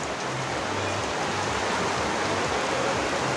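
Steady, dense rain hissing continuously, with a low rumble underneath and no voices.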